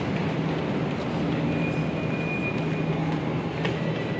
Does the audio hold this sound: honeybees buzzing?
no